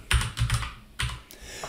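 A burst of typing on a computer keyboard at close range, several quick clustered keystrokes with short pauses between them, heard without any talking.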